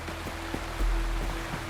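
A waterfall in the video game Wuthering Waves gives off a steady, rushing wash of water noise that holds constant throughout, with a faint tone and a low rumble beneath it.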